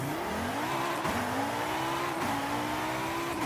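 KTM X-Bow GT4 race car driven in Forza Horizon 5, its engine revving hard and rising in pitch through quick gear changes, with a loud steady roar and brief dips between shifts.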